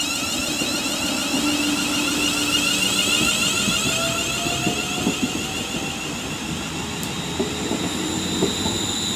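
A train passes at Rugeley Trent Valley on the West Coast Main Line with a loud, steady rumble, rhythmic clickety-clack of the wheels and a faint squeal. It is close and continuous throughout, with no talking.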